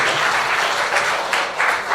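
Dense applause from a mushaira audience at Islamic College, steady and sustained throughout with slight swells, no voices rising above it.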